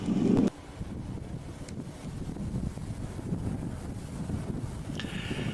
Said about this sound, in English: That wind is blowing pretty hard out here.